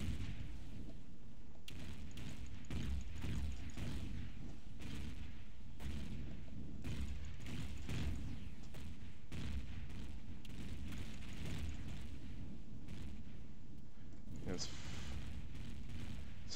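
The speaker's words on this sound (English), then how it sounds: "But I do keep shooting my rockets up there." Rockets launched repeatedly from a ship in the space-building game Empyrion: dull booming bursts in an irregular series over a constant loud rumble of engines, with someone talking throughout.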